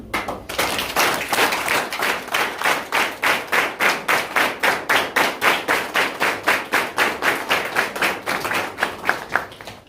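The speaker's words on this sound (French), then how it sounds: "Applaudissez." Wedding guests at a ceremony clap in unison, a steady rhythmic run of sharp, close claps that carries on for about ten seconds with no talk over it.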